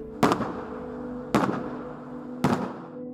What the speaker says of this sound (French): les feux d'artifice sont les vedettes de la ciel